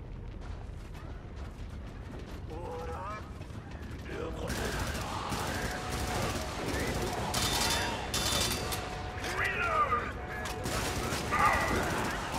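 Enemy gunfire in the Helldivers video game crackles in bursts over busy battle noise and mechanical clatter, growing louder and denser partway through, with a voice talking over it.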